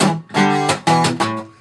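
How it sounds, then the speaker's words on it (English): Acoustic guitar strummed hard and loud in an exaggerated way on the riff, with percussive muted hits around the ringing notes in a quick, choppy rhythm. "We're hitting muted notes on either side of almost every note."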